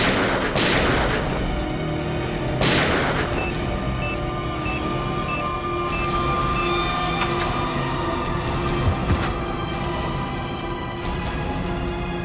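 Gunfire in a Hindi TV crime drama, two sharp loud shots close together near the start, followed by a sustained ringing, humming background with faint tonal beeps.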